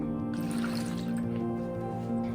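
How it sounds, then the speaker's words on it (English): Water pours and trickles steadily into a plastic colon bag from a toy digestion play kit, five cups added, with soft sloshing and crinkling over a low constant hum. "And then we're going to add 5 cups of water."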